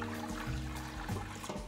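Water trickles and pours into a pressure cooker in a home kitchen, a faint, continuous liquid stream with a few gentle splashing surges.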